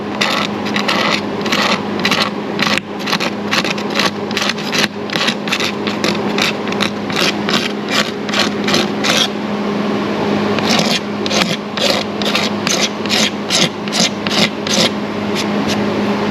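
A razor blade scrapes a gelcoat and fiberglass ridge in quick, rhythmic strokes, a close, crisp rasping repeated dozens of times with a short pause midway.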